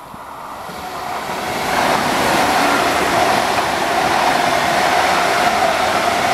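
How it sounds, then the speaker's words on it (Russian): A high-speed train passes through a station without stopping: a broad rushing roar swells over the first two seconds, then holds loud and steady. No one speaks. "Это скоростной поезд, он тут не останавливается."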